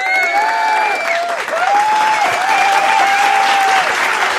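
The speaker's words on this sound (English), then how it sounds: "Let me give you some applause." A burst of canned applause plays at an online stream, with dense steady clapping under a warbling synthetic tone. The sound holds at an even loudness throughout.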